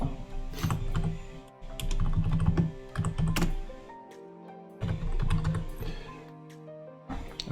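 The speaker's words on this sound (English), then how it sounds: "There's that keyboard noise I warned you about." Computer keyboard typing up close: bursts of rapid clacking keystrokes separated by brief pauses, crisp and fairly loud, with no voices.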